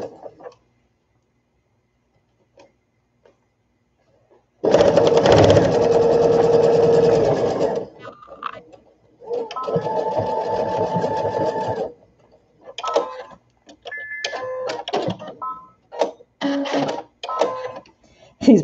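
Brother sewing machine stitching baby sunsuit fabric, a steady motor whir with needle clatter in three bursts: a long run, a shorter one, then brief stop-start stitches near the end.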